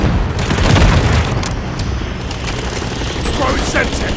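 A Semtex grenade blows up in Call of Duty: Modern Warfare III with a loud, dense boom and rumbling low end, mixed with rapid gunfire crackle that fades into a continuing battle din.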